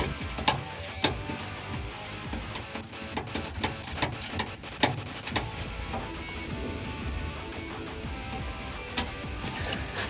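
Socket wrench loosening the two bolts on a 2009-2018 RAM 1500 spare tire winch, a run of quick ratcheting clicks with a few sharper metallic knocks, close and moderately quiet.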